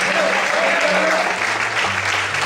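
A church congregation applauds during a sermon service, with loud, uniform clapping filling the room throughout and low sustained tones humming beneath it.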